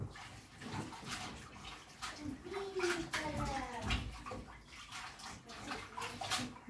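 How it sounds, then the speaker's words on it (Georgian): Boiled water poured while cooking spaghetti, a steady, full gush like a filling tub with gurgling swirls midway, fairly close and continuous for several seconds. "ადუღებულ წყალს ვასხამ"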